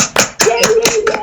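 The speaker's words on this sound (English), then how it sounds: "So let's have a little virtual round of applause for Florence." A handful of people at an awards ceremony clap briefly, a few distinct close hand claps spaced unevenly over about a second.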